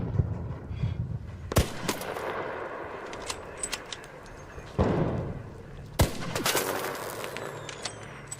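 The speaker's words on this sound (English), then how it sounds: "Hearing like the echoing gunshots in the distance" Distant gunshots echo through the Arc Raiders game world, arriving as scattered sharp cracks and thumps with long reverberant tails, several spaced bursts of varying loudness over a steady background with no talking.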